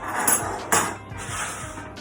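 A palette knife slicing through cheese straw pastry dough in a kitchen, with light metallic scrapes and clinks as the blade meets the surface. The sounds are close and brief over a steady background hiss.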